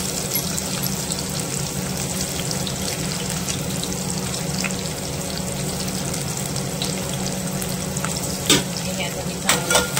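Onion and green chillies frying in hot oil in a home kitchen, with a steady, dense sizzle that holds at an even level throughout. A few light clinks of a spoon or pan come near the end.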